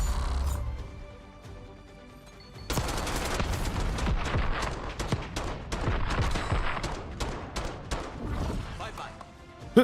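Light machine gun fire in a first-person shooter: after a quieter opening, a long sustained burst of rapid, loud shots rattles on for several seconds, close and dense, with a sharp crack at the very end.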